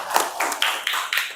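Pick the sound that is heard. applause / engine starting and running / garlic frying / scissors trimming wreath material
applause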